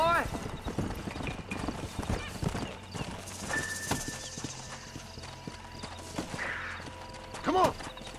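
Horse hooves clip-clop steadily through the Red Dead Redemption game world as a rider sets off, with a horse whinnying near the end and in-game voices talking over the ride.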